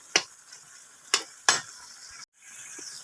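Taro pieces cooking in a pan as their water cooks off, with a low quiet sizzle broken by a few sharp stirring clacks of a utensil, then a brief dropout before the soft frying resumes.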